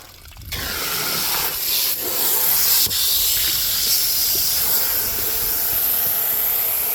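A loud, steady rush of water sprays hard and continuously, hissing close by with no voices.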